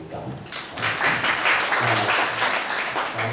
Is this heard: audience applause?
yes